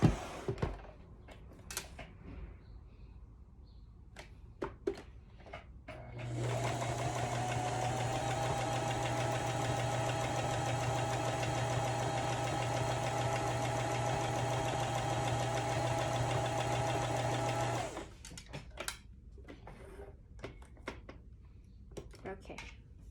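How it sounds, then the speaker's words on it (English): A sewing machine stitches a fabric face mask in one continuous run of about twelve seconds, a steady close motor whir with rapid needle clatter, framed by soft handling clicks before and after. "I'm just gonna do sewing now."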